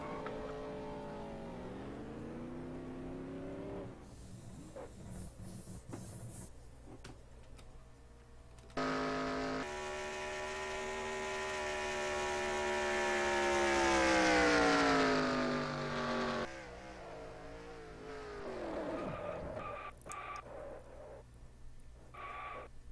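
Racing trucks at Michigan starting a race, their engines droning and rising in pitch as they pass and accelerate, swelling louder mid-clip then fading, with overlapping engine tones throughout.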